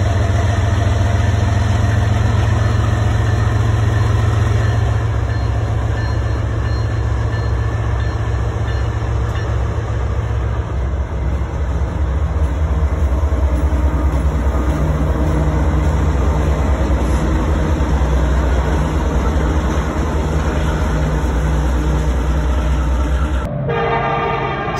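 Train rumbling loudly and continuously as it passes close by, a steady heavy roar with rattling cars and a sustained horn tone, ending abruptly.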